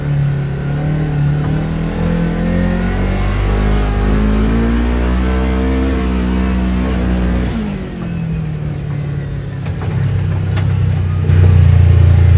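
Kawasaki Teryx KRX 1000 side-by-side driving off-road over rough terrain, its engine droning steadily and loud throughout, with rising and falling revs and a brief dip before climbing again near the end.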